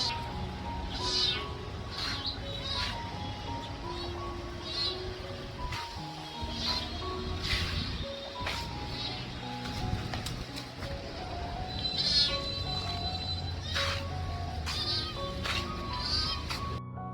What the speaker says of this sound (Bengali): বিড়ালটা ছোট বাচ্চা, এটা এখনো ম্যাচিউর হয় নাই। তো এটা শুধু মেও মেও করতেছে।